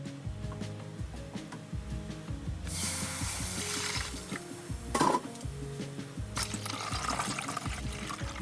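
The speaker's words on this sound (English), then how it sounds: "we're gonna go ahead and add the rest of our mixture to this pot" Liquid mixture poured into a large deep pot on high heat, splashing and glugging pours in bursts with clinks and background clatter.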